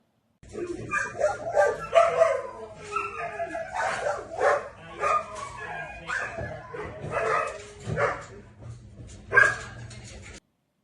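A dog held in a local animal shelter in Stanislaus County barks, yips and whimpers in an uneven, continuous string of calls, loud and close.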